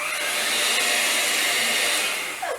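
Electric hand mixer running on low speed through chocolate cake batter with buttermilk and dry ingredients, a steady loud whir that holds for the whole stretch before tapering slightly at the end.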